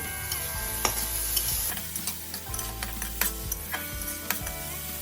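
Capsicum and peas stir-fried for fried rice, a loud close sizzle broken by repeated clattering scrapes of a spatula against the pan in an irregular rhythm.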